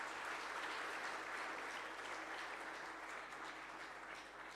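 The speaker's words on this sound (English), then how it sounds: "Please give him a clap again." A conference audience gives sustained applause for a tax official who has just been introduced, heard as a soft, distant wash of many hands clapping that slowly tapers toward the end.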